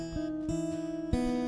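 An acoustic guitar plays the fingerpicked pattern of a song, with several plucked notes ringing over sustained strings and a stronger attack near the end, played close with no talking.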